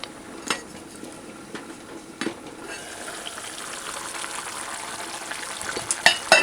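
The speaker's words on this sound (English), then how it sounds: "Just cover it properly and allow it to simmer" A covered pot of pork stew simmering on a stove at medium-low heat, giving a soft, continuous bubbling sizzle with a few light metallic clinks of pots and utensils.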